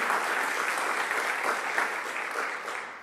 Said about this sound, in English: give a round of applause to the people who kept our colleges running smoothly